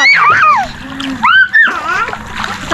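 Splashing in clear, calm sea water as people bathe, with bursts of moving water under lively, high-pitched voices talking close by.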